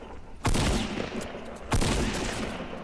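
Two heavy bursts of gunfire in the video game Fortnite, each a sharp loud blast with a ringing tail, about a second apart and with no talk over them.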